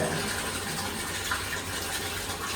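Water gushes steadily inside a pasteurizer machine as it is released toward the lower tier, a continuous broadband rushing that holds at an even level from start to end with no voices.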